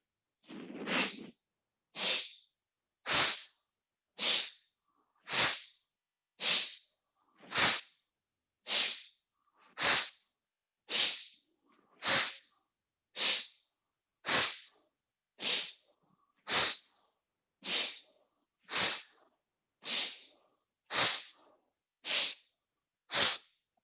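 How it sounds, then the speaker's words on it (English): Forceful nasal exhalations in a dynamic yoga breathing exercise, about twenty sharp bursts in a steady rhythm roughly one per second, close and loud with silence between them. "exhale, blow your nose at the back like this. And then inhale and blow your nose at the back."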